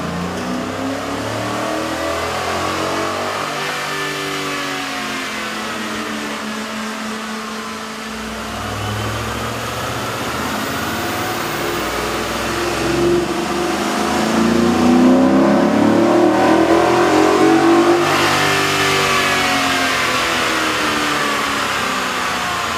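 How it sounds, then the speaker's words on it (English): A pickup truck engine fitted with a K&N 63-2583 air intake revs repeatedly on a dyno, rising and falling in pitch, growing louder toward the middle and staying loud and steady with no talking. "we ran the pickup truck on the dyno to test the sound comparison versus the stock intake"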